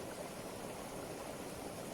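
A waterfall in the wild, a steady broadband rush of falling water, fairly faint and even throughout, with no voices.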